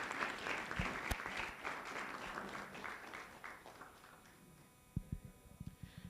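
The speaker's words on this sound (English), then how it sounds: "Let's give them all a round of applause" A crowd applauds loudly, the clapping gradually thinning out and fading, with a few scattered claps near the end.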